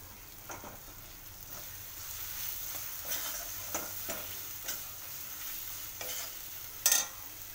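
Green chillies fry in oily chole masala with a faint, steady sizzle. Soft intermittent spoon scrapes run through it, and one sharper clink comes near the end.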